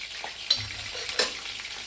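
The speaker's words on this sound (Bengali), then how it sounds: "আমি এই তেল একটু দিয়ে আমি পেঁয়াজটা ভেজে নেব।" Lightly boiled sliced onion frying in a little oil for a prawn chaat, a steady close sizzle with two brief sharp spits, no talking.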